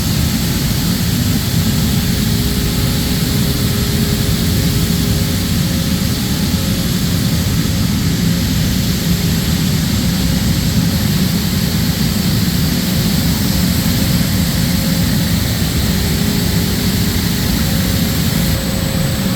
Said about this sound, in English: Heaters and air circulators.